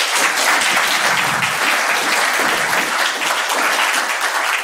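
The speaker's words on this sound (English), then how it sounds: "big round of applause for them" Loud, dense applause from a conference crowd at Nullcon Berlin 2023, a security event, after a panel session: a continuous roar of many hands clapping at full strength for nearly five seconds, no speech over it.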